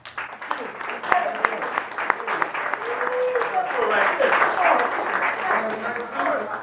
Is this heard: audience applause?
yes